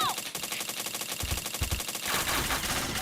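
Rapid automatic gunfire from a shooting video game, with dense bursts of shots running throughout and a louder, busier stretch near the end.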